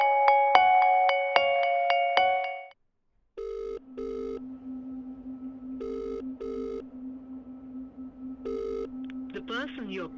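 Phone ringback tones in a Hindi film scene: a bright repeating ring pattern, a short gap, then steady pulsed beeps of an unanswered call over a low hum, loud and close, with a voice briefly at the end.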